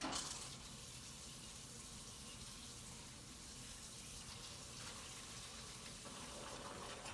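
Running tap water steadily rinsing residue off lab equipment in a chemistry lab prepared for flame tests, a constant faint gush with no talk.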